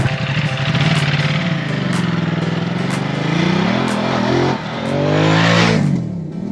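A Ducati Multistrada 950 motorcycle rides on the road, its engine droning loudly and steadily, rising and falling in pitch as it shifts through gears.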